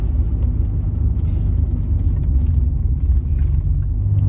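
An expensive 1980s car's engine runs with a deep, steady low rumble, loud and close, droning evenly without talk.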